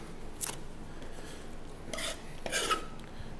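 Knife trimming a dry-aged tomahawk steak on a cutting board, giving a few brief rasping cuts and soft scrapes, close and fairly quiet, with no talk.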